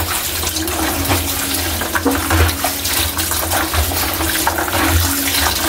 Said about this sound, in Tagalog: hugasan muna natin yung pansit natin kaili